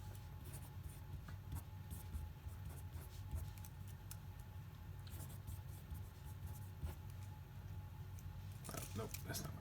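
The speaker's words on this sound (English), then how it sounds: "let me keep writing" Chalk or marker scratching across a board during a math lecture, a steady run of short faint strokes over room hum, with a brief louder clatter near the end.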